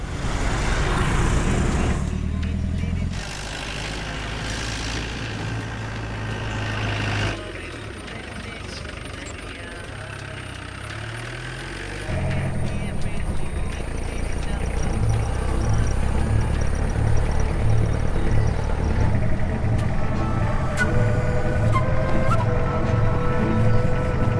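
A motor vehicle runs continuously, its engine rumbling near and loud. Road noise shifts as the sound changes partway through, and a tonal pulsing rises later on.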